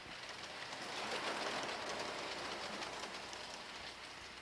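An O gauge model train runs on a layout, giving a steady, continuous rolling and rattling hiss that swells slightly and holds at moderate level throughout, with no voices.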